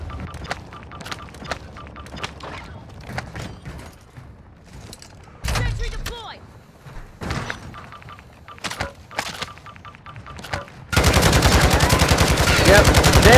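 Video game gunfire in a team firefight: bursts of automatic shots and sharp single reports scattered across the stretch, ending in a long, loud, continuous barrage at close range.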